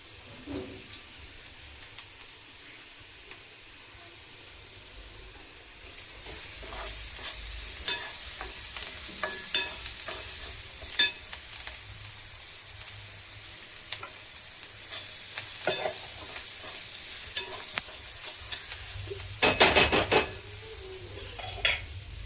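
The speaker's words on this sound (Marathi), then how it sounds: "पोहे असं थोडं हलवत टाकायचं म्हणजे कळ राहत नाही." Poha is tipped into a pan and stirred in, a soft steady sizzle swelling as a spoon scrapes and turns the flakes, with occasional sharper metal clinks near the end.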